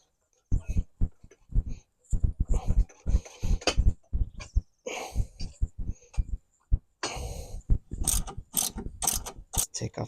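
A jack is ratcheted up beneath the suspension of a 2003 VW Golf MKIV during a coilover install, giving close, sharp clicking strokes in irregular bursts that grow denser toward the end.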